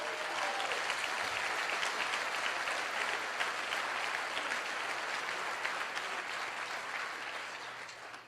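A large audience claps in steady, dense applause that holds for about eight seconds before slowly tapering off.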